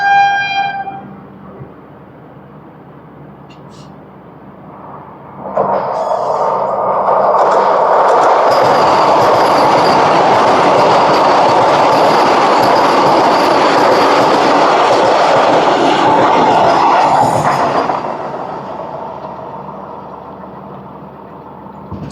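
Repalle Express passenger train running on rails from Secunderabad toward Repalle, its rumble swelling loud and close with rattling wheels and clatter for about twelve seconds before fading off.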